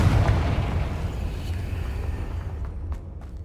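A blast from the Confringo spell in the video game Hogwarts Legacy booms loudly at the start and then rolls off into a long rumbling decay, with no voice over it.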